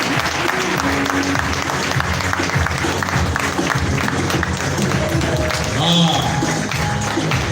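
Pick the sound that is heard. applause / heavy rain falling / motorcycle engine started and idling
applause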